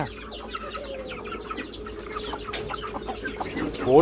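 Guinea fowl call and cluck repeatedly in a farm enclosure, a busy chorus of harsh chattering notes close by, growing louder toward the end.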